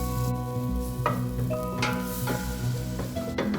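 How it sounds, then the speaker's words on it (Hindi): Butter and starch frying in a preheated pan, a steady close sizzle broken by several scraping strokes of a spoon stirring, with a low hum running underneath. "इसमें मैं 2 टेबलस्पून बटर लूँगी और स्टार्च डाल के इसको थोड़ा सा भून लूँगी"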